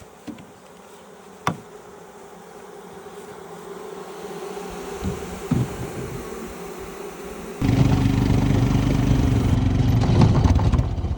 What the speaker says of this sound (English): But these bees are flying around.